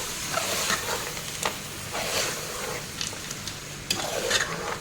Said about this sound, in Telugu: ఇది కూడా బాగా ఫ్రై చేసుకోవాలి కలుపుకుంటూ